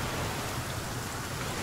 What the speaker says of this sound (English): I just slept for literally 8 hours and you're still raining.